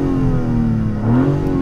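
A BMW 3 Series Touring engine revs close up with a loud, steady droning note that climbs slightly near the end, any exhaust pops barely apparent.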